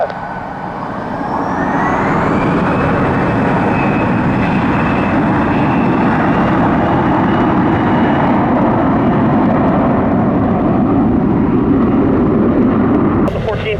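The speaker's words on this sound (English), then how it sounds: "runway 3 left, cleared for takeoff. The wings have takeoff on 3 left" An airliner taking off from runway 3 left at Detroit Metro Airport, a loud, sustained broadband jet roar that swells early and holds steady with a rising engine whine, heard continuously for nearly fourteen seconds.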